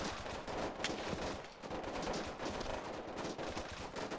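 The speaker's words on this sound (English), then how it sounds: "I'm getting shots. We're being shot from the west." Bursts of gunfire in the video game Arma 3 during a co-op mission, rapid cracking shots in clusters across the whole stretch, fairly faint and dense, with no talk over them.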